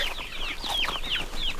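Several short, bright chicken calls in quick succession, fairly close, with no talking, on a homestead with a large flock.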